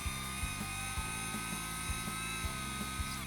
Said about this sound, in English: We will drill in every place that we have marking down.